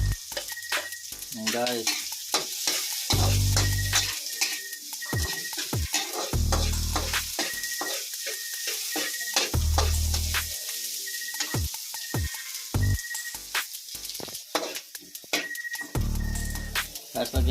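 Garlic sizzling in hot oil in a pan for ginataang kalabasa, a loud continuous fry broken by repeated scraping strokes of stirring and brief metallic clanks, with a short spoken remark.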